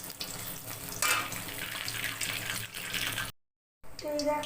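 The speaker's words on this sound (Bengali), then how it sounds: "এই যে বড়াটা এখানে সাদা তেলে ভেজে নিচ্ছি" Bitter gourd leaf fritters frying in white oil give a steady, close crackling sizzle that runs for several seconds, drops out briefly, then resumes with bubbling.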